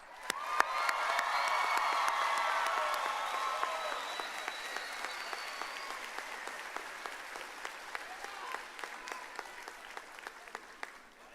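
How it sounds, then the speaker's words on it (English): Commencement audience in an auditorium gives a sustained round of applause with some cheering and whoops, loud at first and slowly tapering over about eleven seconds, with a few sharp individual claps standing out. "Let's celebrate our students with a round of applause"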